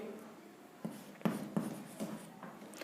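Chalk or marker writing on a board during a chemistry lecture on molecular orbital theory, giving quiet scratchy strokes in short bursts with a few sharper taps, faint against room tone.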